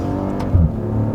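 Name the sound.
Maserati exhaust note while revving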